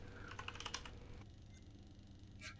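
Quick bursts of keystrokes clatter on a computer keyboard for about a second, then stop, leaving a faint hum with one or two stray clicks.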